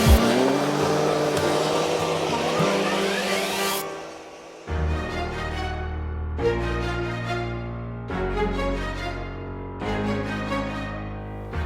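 A Triumph Tiger XCX adventure motorcycle fitted with aftermarket tires rides a gravel road, its engine roaring loud and close for about four seconds before giving way to rhythmic music.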